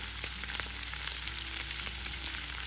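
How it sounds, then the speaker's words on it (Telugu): Onions with green chilies and curry leaves frying in oil for a simple onion curry, giving a steady broadband sizzle with faint scattered crackles and occasional soft stirring clicks throughout. "ఉల్లిపాయలు కొద్దిగా పచ్చివాసన పోయి సాఫ్ట్గా అయ్యే వరకు వేయించుకోండి."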